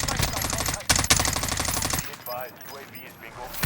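Rapid bursts of MG82 light machine gun fire in Call of Duty: Warzone, dense and loud for about two seconds with a brief gap, then fading into quieter game sounds and a faint voice.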